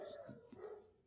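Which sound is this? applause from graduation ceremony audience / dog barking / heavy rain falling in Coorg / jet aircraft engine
dog barking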